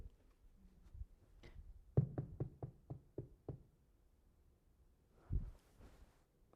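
Someone knocks on a door in a rapid series of about eight sharp raps, close and distinct in a quiet room, followed by a softer thud shortly after.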